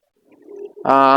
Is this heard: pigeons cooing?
yes